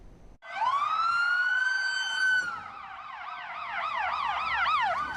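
Chicago police car sirens wail loud and near, first a rising steady tone, then a fast warbling yelp, escorting an ambulance carrying a wounded officer.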